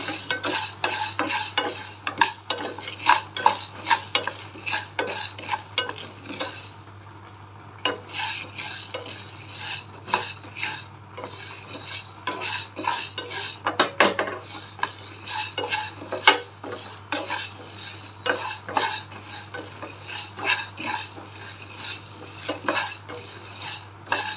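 Coriander seeds and spices dry-roast in a pan, with steady scraping and clinking of a metal spoon stirring them close up, with a brief pause partway through.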